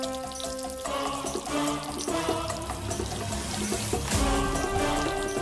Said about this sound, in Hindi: पौधे को पानी दे रही हूँ।